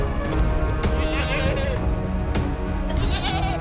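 Flock of sheep and goats bleating repeatedly at close range in rural Rajasthan leopard country, several overlapping calls over a busy outdoor background.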